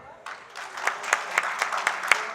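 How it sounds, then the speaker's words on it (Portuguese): An audience at a business lecture gives a speaker a welcoming round of applause, with steady, fairly close clapping that swells slightly and keeps going throughout. "Aos que estão presentes, pediria uma salva de palmas ao Ricardo Pedro."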